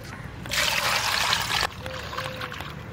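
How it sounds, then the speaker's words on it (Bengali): Potatoes are washed with water in a village kitchen: a steady, close pour of water runs for about a second, then stops, leaving faint background sound. "আলুটা ধুয়ে নেবো ভালো করে"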